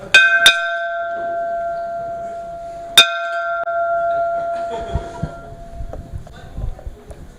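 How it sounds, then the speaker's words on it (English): A small hand bell is struck at a conference hall to call attendees back to their seats, giving a few bright metallic dings with ringing tails. Chatter and room noise from the crowd continue underneath. "I'm going to ring the bell"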